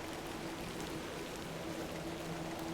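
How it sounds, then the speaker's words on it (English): Steady rain falls in The Excavation of Hob's Barrow, a dense, even hiss that holds at one level throughout with no breaks and no voices over it. "Little rain is no bother."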